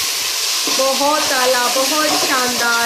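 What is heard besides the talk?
tadka sizzling after adding tomatoes, green chilies and water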